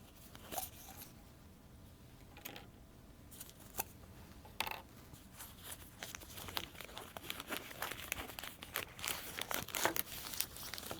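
Oil paper wrapping around a valve assembly crinkles and rustles in irregular bursts, close and fairly quiet, growing busier toward the end with sharp crackling handling noises.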